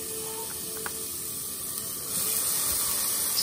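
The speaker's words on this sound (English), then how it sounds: "Stick this in here. Hear that sizzle." Chicken sizzles as it goes into an air fryer: a steady, close broadband hiss that grows louder about two seconds in and holds there, with no talking.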